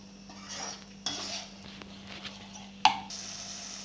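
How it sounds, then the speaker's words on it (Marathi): A metal spoon stirs turmeric, salt, red chilli powder and pav bhaji masala into pav bhaji in a pan, making soft scraping and scuffing sounds with a few sharp clinks against the pan, quiet and close over a faint steady hum. "हे चांगलं मिक्स करून घ्यायचं"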